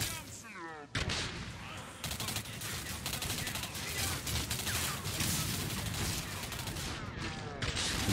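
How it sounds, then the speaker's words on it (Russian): Gunfire and exploding barrels in the Singularity video game, a dense barrage of shots and blasts that runs almost without a break. It is loud throughout, with a voice speaking briefly near the start. "Вот взрывы стали появляться от бочек."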